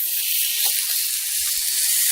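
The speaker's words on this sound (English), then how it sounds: "Listen to that cracking and sizzling." A lentil burger being pressed down in a hot pan crackles and sizzles with a steady, close hiss and scattered pops throughout.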